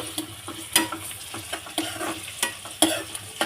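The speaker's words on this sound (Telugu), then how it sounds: "ఒకసారి ఆనియన్స్ని బాగా మిక్స్ చేసుకుని" Onions being stirred as they fry in a pan for chicken curry: a soft continuous sizzle broken by repeated scraping, clattering strokes of a spoon against the pan, close by, with no voice.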